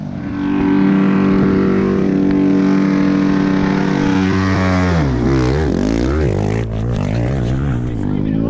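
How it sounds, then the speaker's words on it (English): A dirt bike stuck in a mud rut revs hard and loud at close range, its engine note climbing and falling in repeated surges as the rider wrings the throttle. "he's just sitting there revving the bike like he's trying to blow the thing up"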